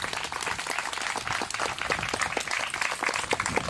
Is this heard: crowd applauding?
yes